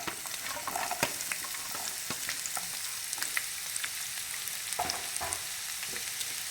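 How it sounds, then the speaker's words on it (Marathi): Ginger, garlic and onion frying on medium heat in a pan, a steady close sizzle broken by repeated scraping stirs and clacks of the spoon against the pan throughout. "आता हे आपलं कांदा वगैरे एक दोन मिनिट आपण छान परतून घेऊया मीडियम गॅसवर"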